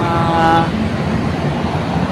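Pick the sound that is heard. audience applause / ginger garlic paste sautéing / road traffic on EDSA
road traffic on EDSA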